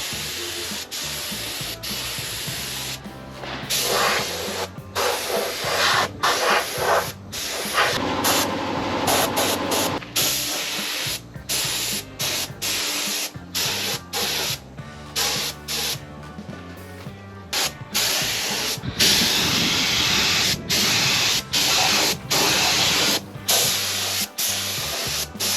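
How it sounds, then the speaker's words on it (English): A small paint sprayer on a backyard truck build sprays steadily and loudly in near-continuous hissing bursts with brief pauses, close to the listener. "What do you reckon about that little sprayer?"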